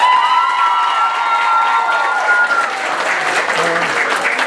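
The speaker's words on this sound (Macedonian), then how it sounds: "едно големо браво и един голем аплауз за нашия медиумски покровител Делчево 365" An audience at a folk dance ensemble's awards ceremony breaks into loud, sustained clapping that starts as close applause and spreads into a dense crowd with some cheering.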